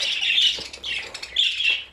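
Birds squawk loudly and close by in harsh, shrill bursts, one call following another with brief gaps.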